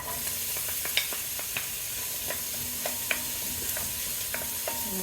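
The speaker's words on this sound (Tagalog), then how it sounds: "maglagay na tayo ng oil sa kawali natin. Tapos yung sibuyas." Onion sizzles in hot oil in a pan for chili con carne, a constant close hiss broken by scattered sharp clicks and taps of a utensil stirring.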